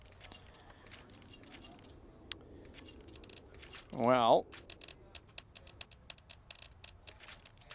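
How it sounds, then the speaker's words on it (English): Players click through options at a CS:GO esports match at IEM Shanghai, sounding as sharp, scattered mouse and keyboard ticks. A single voice speaks briefly midway through. "as we hear everyone clicking through some options, I presume on the Observer PC"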